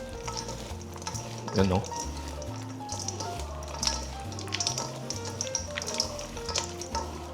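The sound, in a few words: stirring crispy pork sisig frying in a pan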